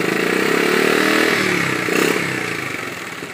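A 1973 Honda CT70 Trail 70 small trail motorcycle running loud and close, a steady buzzing engine note that swells briefly then eases off slightly.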